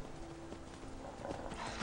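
Hoofbeats of a horse galloping in Skyrim run steadily and fairly close, a dull repeated clip-clop over a constant game background with no one talking.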